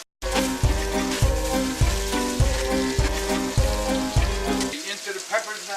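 Potatoes and peppers fry in a pan with a bright, continuous sizzle, punctuated by regular soft thumps before easing off near the end.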